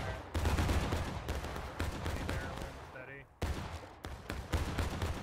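Musket volleys crackle in War of Rights as Civil War soldiers fire at will into hay bales. Dense, close gunshots overlap in an irregular stream with a brief lull, and voices are heard under the firing.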